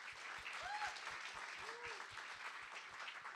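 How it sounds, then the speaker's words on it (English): Audience applause fills a university startup competition event honoring its organizing committee, a steady wash of clapping with a faint tonal chirp over a regular low thumping pulse. "Let's give them a big round of applause."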